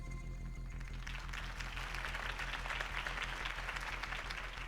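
Crowd applause follows a campaign speech for Harvey Dent in TellTale Batman, a distant, steady roar of clapping over a low, droning hum, holding at an even moderate level throughout.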